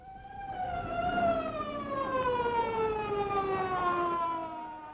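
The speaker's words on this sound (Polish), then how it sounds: "czyli syrena" A wailing siren with a long, slowly falling tone, loud and sustained over several seconds with a faint rumble underneath.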